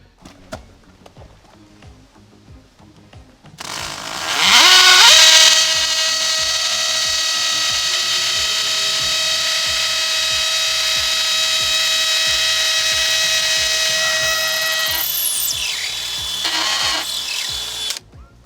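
A power drill whines loudly and steadily for about twelve seconds while a concrete screw is driven to anchor a post to a stone, following faint background knocks and ending with a brief ratcheting burst.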